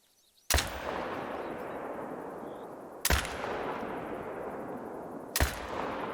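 Three loud, sharp rifle shots from a Zarza-10 .308 in theHunter: Call of the Wild, evenly spaced a few seconds apart, each followed by a long rolling outdoor echo that fills the gaps.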